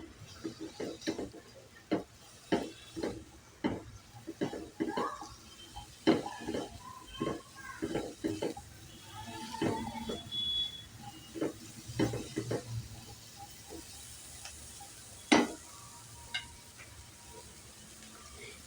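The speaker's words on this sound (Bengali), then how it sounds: "এবার সমস্ত কিছু ভালো করে একটু নাড়াচাড়া করে কষিয়ে নিচ্ছি" Spices, cashews and raisins for palak paneer are stirred and fried in a pan, with repeated close spoon scrapes and knocks in an irregular rhythm over a faint sizzle.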